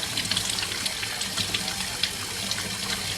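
Tap water runs steadily into a sink while squid are being washed, a close, continuous splashing flow with small gurgles and no speech.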